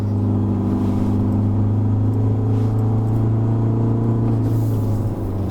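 Isuzu D-Max X-Terrain pickup, a 2021 model, pulling hard in third gear on a mountain road, its engine droning at a loud, even pitch from inside the cabin throughout, with no voices.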